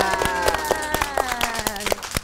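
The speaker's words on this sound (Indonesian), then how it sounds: "Tepuk tangan semuanya." Children's hands clapping at a Sunday school kids' club session, a quick run of roughly a dozen sharp claps over about two seconds, close and fairly loud over a sustained musical tone.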